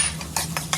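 Utensil scraping and clinking in a pan while stirring fried rice with shrimp, carrots and garlic, three or four quick close scrapes against a low steady background hum.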